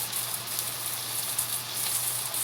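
Tofu skin sizzles steadily in a pan over medium-high heat, a continuous close hiss of frying oil with faint crackles and no voices.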